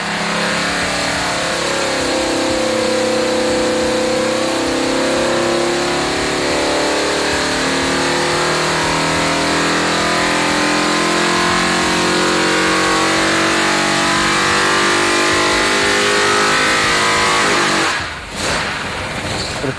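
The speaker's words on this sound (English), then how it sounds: "this sound is just pure Hemi" A built 426 Hemi V8 on a dyno roars loudly and continuously at high rpm for nearly twenty seconds, its dense, steady engine howl filling the space before a brief dip near the end.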